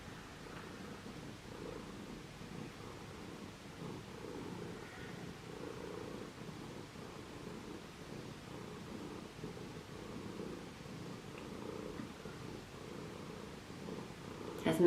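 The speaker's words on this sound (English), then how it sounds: "I think it's probably my cat you can hear." A pet cat purring close by, a soft steady low rumble running throughout at low volume, with faint rustling in a quiet room.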